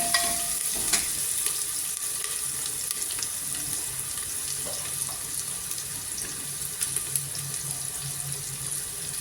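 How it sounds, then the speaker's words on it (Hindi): Garlic and onion fry in a pan with a constant loud sizzle, punctuated by occasional stirring clinks, in a home kitchen, with no talking. "तो ये लहसुन प्याज जब अच्छे से भुन जाएगा"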